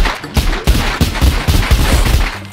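Rapid bursts of gunfire in the VR game The Walking Dead: Saints & Sinners crackle steadily for a couple of seconds, dense and loud, with a fast repeating rhythm of shots.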